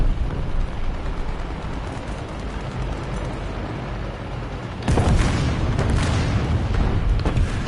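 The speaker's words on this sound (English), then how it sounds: "Oh my, explosion." In a War Thunder tank battle, a sudden loud explosion bursts just past the midpoint, following a steady background rumble, then leaves a heavy, crackling roar trailing off.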